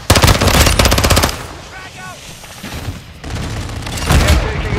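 Rapid automatic gunfire from a Call of Duty-style shooter game, loud bursts at the start and end with a quieter gap between, mixed with in-game sounds.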